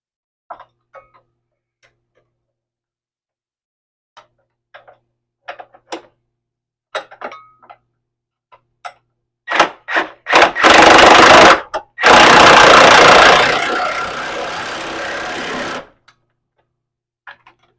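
Tool tightening a nut and washer on a tubular subframe mount of a 1989-1997 Thunderbird or Cougar: scattered faint ticks and clicks, then a loud rattling burst of rapid impacts lasting several seconds before stopping, close.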